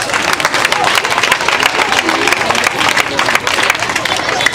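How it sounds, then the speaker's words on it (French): A crowd of children and adults at a celebratory gathering applauds, giving dense, loud, sustained clapping that holds steady throughout with faint cheering mixed in. "Acclamez pour lui."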